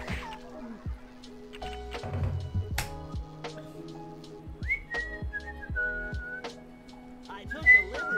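A person whistles a few sustained, wavering tones amid finger snaps and background clatter, with speech-like sounds mixed in, moderately close.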